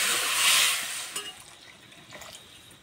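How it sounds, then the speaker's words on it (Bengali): Water is poured into a pan of lentil curry set to boil, a bright rushing splash for about a second that fades into faint clinks and quiet kitchen sounds. "সিদ্ধ হওয়ার জন্য জল দিয়ে দেবো।"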